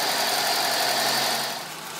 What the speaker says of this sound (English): There she is, a little misfiring, but she runs, okay.